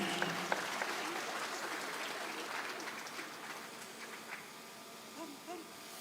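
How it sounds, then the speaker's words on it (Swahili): Applause from an audience at a ceremony as a woman receives a gift, a broad steady wash of clapping that carries on for several seconds, with a few scattered louder claps. "Tumpe makofi anapopokea zawadi hii."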